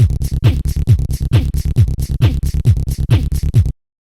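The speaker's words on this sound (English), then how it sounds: "today we're going to be making a rolling Psytrance bass, which sounds like this." A rolling psytrance bassline built from a lip roll layered on a Boss RC-505 MKII looper, with steady pulsing low bass hits under crisp rhythmic percussive ticks, looping loud and even for several seconds before stopping abruptly.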